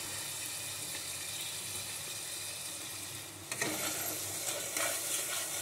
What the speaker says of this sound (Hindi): एक दो मिनट मसाले को अच्छे से इसी तरीके से चलाते हुए भून लेते हैं।